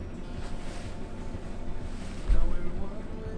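Boat cruising slowly through sea ice off Svalbard, with a steady low rumble and wind noise throughout and a brief louder thump near the end, like the hull nudging ice.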